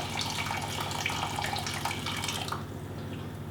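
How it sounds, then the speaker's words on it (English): Boiling water poured from a container onto pumpkin pieces in a pan, a steady close splashing rush lasting a few seconds before easing into a quieter trickle. "So we're going to put a cup of boiling water in there."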